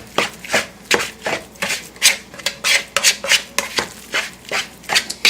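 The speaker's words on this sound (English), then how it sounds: "And then I'm going to mix everything together." Turkey burger meat being mixed by hand with teriyaki marinade and sauce in a bowl, giving close, rhythmic squelching and slapping strokes at a steady pace with no voices.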